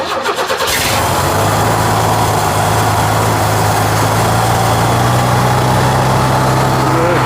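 1971 Chevrolet C10 shortbed with an inline-six engine cranks and catches, then settles into a loud, steady idle with a low, even rumble close by.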